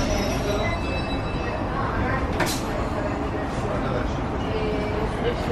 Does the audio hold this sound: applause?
no